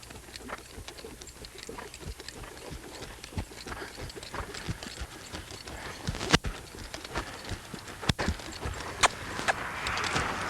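Hooves of a largely untrained horse clip-clopping during riding training, with irregular footfalls and occasional sharper knocks over several seconds, fairly close and moderately quiet.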